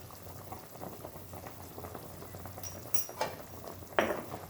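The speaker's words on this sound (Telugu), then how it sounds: "ఇదిగోండి, ఇలా ఇలా వాటర్ బబుల్స్ లాగా పైకి వస్తాయి." Water boiling in a pot for mutton biryani, with a steady low bubbling and scattered pops that grow into louder bursts near the end, heard close with no talking.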